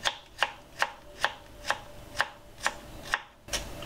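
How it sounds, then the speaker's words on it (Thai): Knife slicing Chinese cabbage thinly on a board, nine crisp evenly spaced chops about every half second, close and clear with no talk. "เราลองหั่นผักกาดดูสิหั่นได้ไหม"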